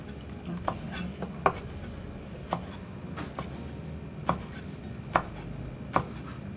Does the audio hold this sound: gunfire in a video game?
no